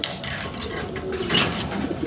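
Big-size Maltese pigeons coo softly close by in a brief, low, rolling murmur that runs without pause across the short moment.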